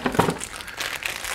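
A small plastic parts bag holding body mounts for a Tamiya CC-01 Land Rover Defender model chassis crinkles briefly up close, with a sharp rustle at the start and softer crackling after.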